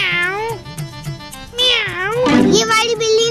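A voice imitates a cat, drawing out loud, wavering meows one after another, with a higher-pitched cry overlapping near the end.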